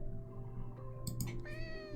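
Cats meowing in a video game, several short high, tonal mews clustered in the second half over a steady game soundtrack hum, with no talking.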